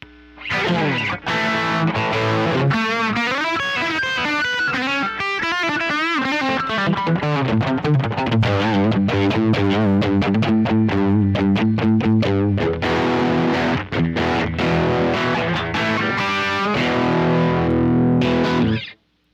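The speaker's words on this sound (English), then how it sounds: "That's the closest to fuzz I've got." A Les Paul electric guitar played through heavy fuzz-like distortion, a thick saturated buzzing tone with sustained chords and note runs, loud and continuous from start to end.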